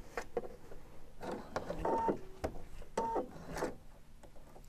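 Sewing machine running a 5 mm wide topstitch around a blouse, following the presser foot edge, with a rhythmic mechanical whir in bursts amid small clicks and handling noises, fairly quiet and close.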